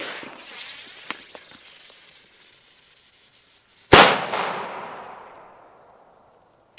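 A Thunder Cube firecracker explodes outdoors in one sharp, loud bang, followed by a long echoing decay. Faint crackles and small pops come before it.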